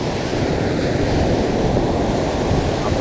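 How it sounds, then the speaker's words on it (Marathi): Strong ocean waves surge against a fishing jetty, a steady loud roar of surf with wind buffeting the microphone throughout and no voices. "पण तिथे लाटा एवढा जोरात आहेत"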